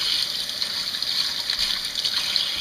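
Tap water runs continuously while apples are washed for homemade fruit pectin, a steady, close hissing stream with light splashing and small irregular surges.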